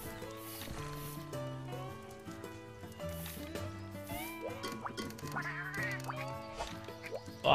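A duck quacks in the Monster Hunter Frontier video game, with a few short quacks heard over looping game music that plays throughout.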